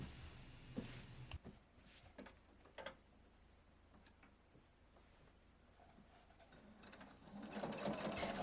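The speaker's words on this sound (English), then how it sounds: "Using a sewing machine or needle and thread, quilt your layers together." A sewing machine quilts fabric layers together in rhythmic ticking bursts with scattered clicks, growing into a steadier, louder whir at the end.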